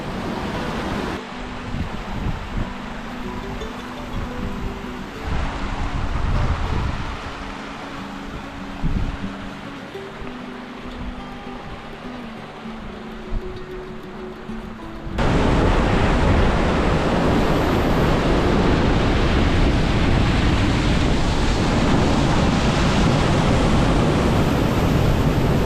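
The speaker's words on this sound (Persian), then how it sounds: "این مسیریه که این رود میاد و تبدیل میشه به این آبشار." The river plunges over Sheikh Ali Khan waterfall in Kuhrang, Iran, a loud, dense roar of falling water mixed with wind buffeting, starting somewhat muffled and then swelling abruptly to a full, close, unbroken rush for the last stretch.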